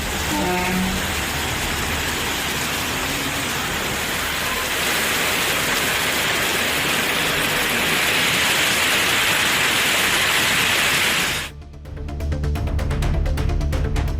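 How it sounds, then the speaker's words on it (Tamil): Heavy rain pours steadily over Tirumangalam in Tamil Nadu, a loud, dense hiss that is unbroken for most of the stretch before it cuts away abruptly near the end. "திருமங்கலம் மற்றும் அதன் சுற்றுவட்டார பகுதிகளில் அரை மணி நேரத்திற்கு மேலாக பலத்த மழை பெய்தது"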